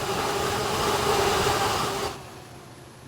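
Two Class 20 locomotives haul a unit drag train in a train simulator game, a steady rumbling engine drone that drops noticeably quieter after about two seconds, with no talking.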